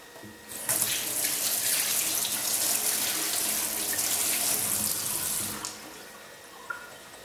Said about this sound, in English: I'll just wash my hand.